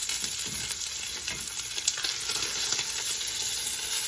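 Steak cooking with rosemary in a hot pan gives a dense, steady sizzle and crackle throughout, close up and even in loudness, with no voices.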